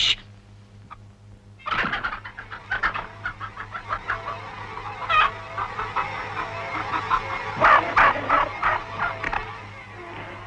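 Farm hens cluck in a series of close, rhythmic clucks and squawks, with several birds calling over one another and a low background hum.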